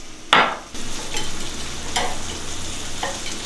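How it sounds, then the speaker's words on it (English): A filet steak rubbed with oil and herbs goes into a hot pan, hitting it with a sharp sizzle that settles into steady, moderate frying crackle. "Our pan is nice and hot, so it's time to get our steak going."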